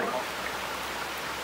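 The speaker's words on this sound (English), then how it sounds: "Alright, so it's raining a little." Light rain falling outdoors on a road trip day, a steady soft hiss of drops with no distinct individual hits, moderately close and continuous with no talking.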